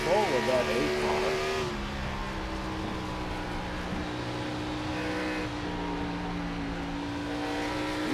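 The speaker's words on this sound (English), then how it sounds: "sometimes you hear him actually lift significantly there to maintain control of that 8 car" The 8 race car at Dover drones with a steady, buzzing engine note that eases as the driver lifts off the throttle, sitting under continuous commentary.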